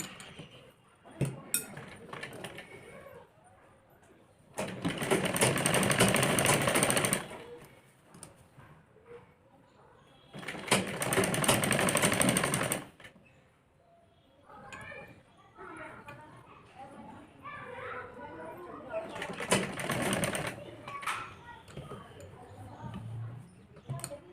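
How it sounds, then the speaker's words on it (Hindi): A sewing machine stitches along the folded edges of a double-frill umbrella-cut top, coming in three loud sustained runs with short quiet gaps between them, where soft handling noises and faint movement are heard. "इसके यहाँ पे किनारे किनारे पे सिलाई लगा लेंगे इस तरह से"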